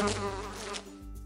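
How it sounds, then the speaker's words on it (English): A housefly buzzes close by in a continuous, wavering drone with fluttering pitch for about a second, loud and alone with no talk. "Fly."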